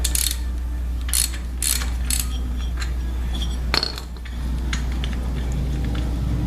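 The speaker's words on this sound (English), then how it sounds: "Get your wrench on." A ratchet wrench clicks in short bursts while loosening a spark plug on a 2012 Harley Street Glide, close and fairly clear over a low steady hum.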